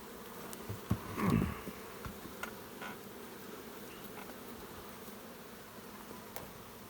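Honey bees hum in a continuous low buzz while a hive is split, with one bee droning close by for a moment amid the steady swarm sound and light handling knocks.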